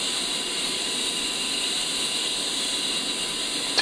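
A jet engine starting up in a flight simulator game, a steady, dense roar and high whine that holds constant throughout without letting up.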